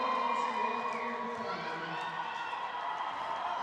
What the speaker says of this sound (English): Crowd is going wild.